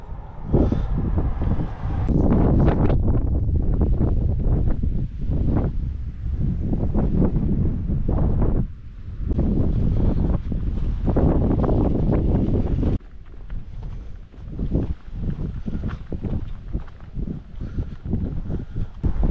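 Strong wind blows by the sea at Limekilns, buffeting the microphone in loud continuous gusts that roar and rush for the whole stretch, easing slightly near the end, with no voices.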